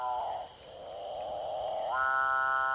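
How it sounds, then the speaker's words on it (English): A long, low, drawn-out moaning call of a capuchin bird that rises in pitch near the end, heard alone against a steady high insect drone. "That's a capuchin bird."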